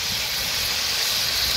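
Chicken meat sizzling in hot oil while being stirred, a loud continuous hiss close up with a low rumbling texture underneath.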